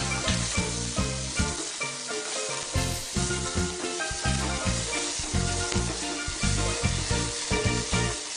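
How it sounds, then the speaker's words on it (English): Chopped medium onion sizzles and fries in a hot pan, a loud continuous crackling hiss broken by rhythmic bursts of stirring, with no voices. "And now I'll add my onions."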